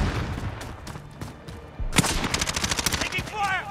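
Gunfire in Call of Duty Modern Warfare during a raid on Grazna, starting with scattered shots and breaking into a loud, fast string of close automatic fire, mixed with some voice chatter.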